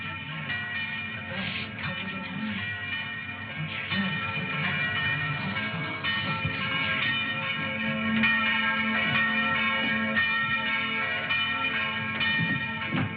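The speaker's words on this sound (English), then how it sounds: "Did he ring the bell to say the gauntlet had come home?" A church bell tolls repeatedly in a 1950s film noir scene, its ringing layered and sustained with a continuous low hum beneath, fairly loud and steady throughout with no talking.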